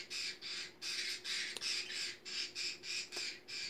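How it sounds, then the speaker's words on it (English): Birds squawk and scuffle in a rapid run of about a dozen harsh, raspy calls, fairly faint and close, with no talking. "Birds, quit fighting."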